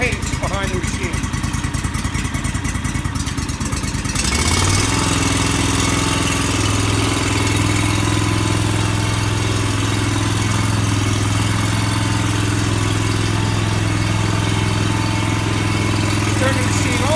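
Aztec LowRider floor burnisher's gas engine running, first idling with a rough putter and then throttling up to a steady louder drone, close by.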